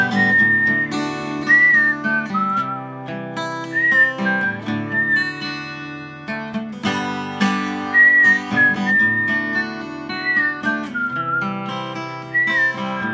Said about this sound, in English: You gotta throw in as many whistles as you can for him.